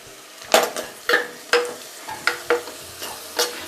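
Onions frying in a pan with garam masala powder, stirred with a utensil: soft sizzle under repeated scraping strokes at an irregular rhythm, close and moderately loud, no voices.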